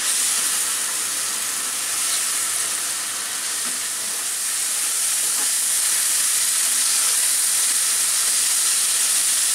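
Onion and spice masala for a hilsa fish dish sizzling in hot oil over a raised flame, a steady broadband frying hiss that holds evenly from start to finish with no voices.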